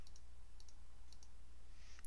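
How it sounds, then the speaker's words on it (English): Computer mouse clicking an on-screen increase button, a handful of sharp, light clicks in an irregular rhythm over a steady low hum. "then clicking increase"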